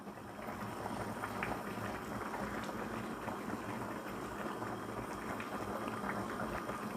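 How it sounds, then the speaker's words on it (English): Goat meat pepper soup with scent leaf and pepper boils steadily in a pot, a continuous dense bubbling and simmering that stays even and close throughout, with no voices. "It's boiling. You see that,"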